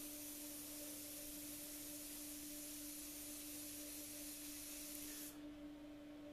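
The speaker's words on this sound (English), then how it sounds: "I'm going to spray some more black again" An airbrush sprays black paint in a steady, close hiss that runs unbroken, softening slightly near the end.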